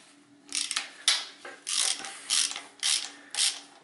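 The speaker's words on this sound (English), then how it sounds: "Then I insert that in here, and then I start to open this bolt." A ratchet wrench loosening a bolt on a Nissan EGR system, heard as six loud, close bursts of ratcheting clicks at a steady rhythm, with no talking.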